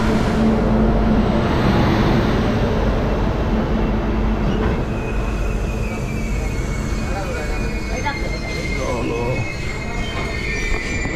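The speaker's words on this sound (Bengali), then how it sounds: "চলে এসছে কাঞ্চনকন্যা এক্সপ্রেস, এবার উঠবো" The Kanchankanya Express rolls into a station with a loud rumble of wheels on rails, and high squealing brakes build toward the end as the train slows, while crowd voices murmur on the platform.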